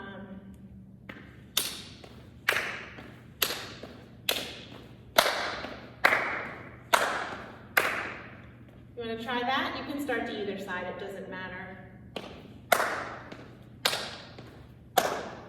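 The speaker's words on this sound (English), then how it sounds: "So you're clapping on the step, or on the touch." Dancers doing a Patting Juba trot clap their hands on the step, making a sharp, regular series of loud claps. A voice gives instructions between the claps.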